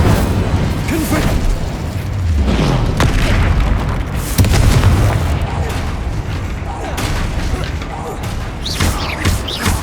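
Incendio and Confringo spell blasts in Hogwarts Legacy, a dense run of booming bursts and crashes during a fight near a troll, loud and continuous, with a voice shouting spell names over it.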